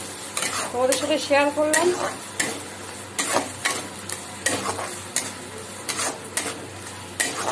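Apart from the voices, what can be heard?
frying food in a pan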